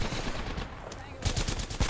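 Rapid gunfire in Apex Legends: a quick burst of close shots crackling under a busy, noisy game mix, with no talking heard.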